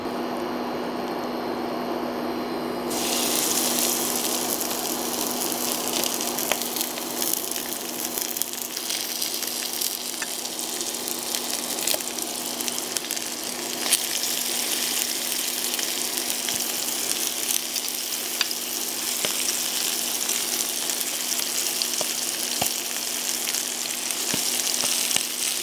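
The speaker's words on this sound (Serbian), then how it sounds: "spuštam džigericu u tiganj." Beef liver frying in hot oil in a pan, a loud, steady crackling sizzle that bursts in as the liver goes in and keeps spitting and popping throughout, with no voices.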